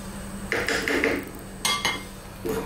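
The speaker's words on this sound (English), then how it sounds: "Give it a stir every now and then." A spoon scrapes and knocks against a cooking pot while shrimp curry is stirred, a few short clinking bursts over a low steady hum, close and fairly quiet.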